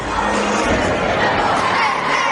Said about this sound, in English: there is a packed crowd in here this afternoon, this evening